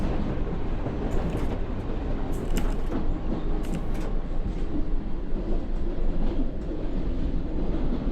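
London Underground Jubilee Line 1996 Stock train running in the Open.BVE simulator, a steady loud rumble of motors and wheels on track with faint rail clicks and no talking.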